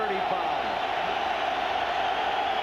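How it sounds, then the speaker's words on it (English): Steady roar of a football stadium crowd at a 1994 Green Bay Packers at Minnesota Vikings game, a dense, continuous wash of cheering with no break. "Listen to the crowd."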